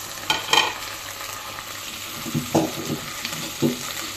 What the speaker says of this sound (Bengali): মাছগুলো একটু ভেজে দেবো যাতে গন্ধ না করে আর কি।